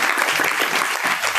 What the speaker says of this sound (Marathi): एकदा टाळ्या पाहिजे.